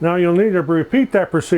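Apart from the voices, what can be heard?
No everyday noise stands out behind the speech.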